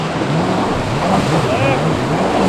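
A jet ski running a serpentine drill on open water: the engine's drone sits under constant rushing water and wind noise as the throttle backs off, loud and close throughout.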